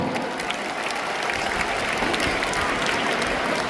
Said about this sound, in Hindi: तो आइए कविताओं के इस सफर की शुरुआत करते हैं जोरदार तालियों की गड़गड़ाहट के साथ।